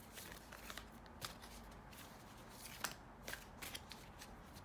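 Moon oracle cards being shuffled, a steady faint riffling and sliding of card stock with a few sharper flicks, quiet and close, with no voices.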